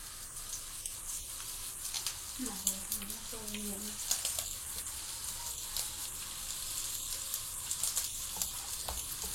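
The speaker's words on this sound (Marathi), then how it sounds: "ह्याला आपण बारीक गॅसवरती 10 मिनिट तळून घेऊया." Surmai fish fries in hot oil in a nonstick pan over low heat with a soft, steady sizzle and occasional crackles. A voice briefly speaks partway through.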